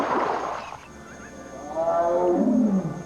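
A tiger roars loudly and close in the wild, a rough opening growl followed after a short pause by a long, deep, drawn-out roar.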